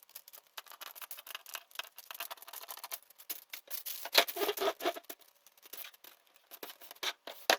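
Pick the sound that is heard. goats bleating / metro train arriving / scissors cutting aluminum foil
scissors cutting aluminum foil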